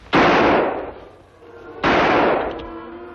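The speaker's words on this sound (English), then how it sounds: "Shots, Tonto. Sound come from over there" Two loud gunshots ring out about a second and a half apart in an Old West setting, each a sharp crack followed by a decaying echo, with no talking.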